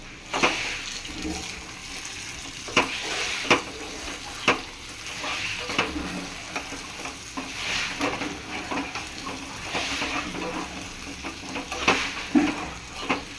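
Onions and curry leaves fry in a pan for a tempering, a moderate sizzle punctuated by regular scraping and knocking as a spoon stirs them.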